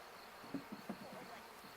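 Honeybees from a package being installed into a hive hum faintly and steadily, with a few brief louder buzzes as individual bees pass close by.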